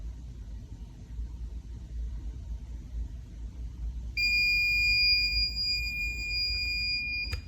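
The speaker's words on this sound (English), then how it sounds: "when it's done, it'll give you a nice long beep" A heat press gives a long, steady electronic beep at the end of its countdown, loud and sustained through the last three seconds, following a quiet low hum with no one talking.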